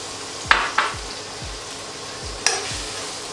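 Chopped onion hits hot oil with fennel seeds in a pan, bursting into sharp sizzles, with several clanking spoon stirs spaced across the short stretch and a hiss running underneath.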